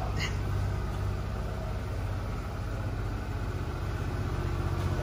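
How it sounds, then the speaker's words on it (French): A brand-new car with zero kilometres idles with a steady, loud, even engine rumble that holds unchanged throughout, with a brief faint chime near the start. "Tu démarres, t'as les nouveaux moteurs."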